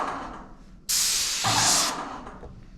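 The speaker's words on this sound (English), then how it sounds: "this will be the first time I actually spray any paint out of it" A loud, steady hiss of a Graco X5 airless paint sprayer spraying onto cardboard starts abruptly and runs for about a second, with a deeper rushing layer joining midway, then fades.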